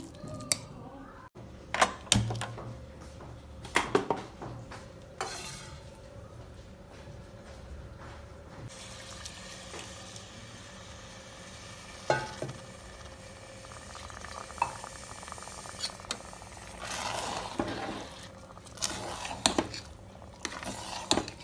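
Karnataka-style bisi bele bath, a rice and lentil dish, being stirred and mixed in a pot, with sporadic clattering scrapes of the spoon against the vessel over a quiet background.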